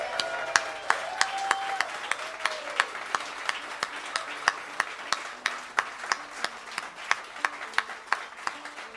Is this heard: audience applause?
yes